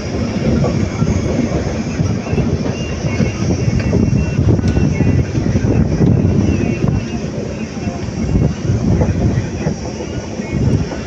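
Constant loud rumble and rhythmic rail clatter of a passenger train running from Erode to Bangalore, heard from on board for the whole stretch without pause.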